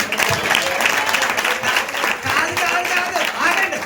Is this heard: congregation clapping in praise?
yes